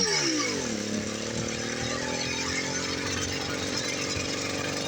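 A 50cc ChinaDoll engine struggles to idle, a loud, close, uneven motor drone whose pitch sags and wavers throughout without settling.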